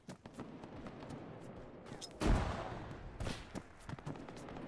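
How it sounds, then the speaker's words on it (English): A gunshot rings out in a WWII shooter game set during the Peleliu landing, a single sharp burst standing out over a busy battlefield ambience of scattered distant shots and rumble. "Heard a shot."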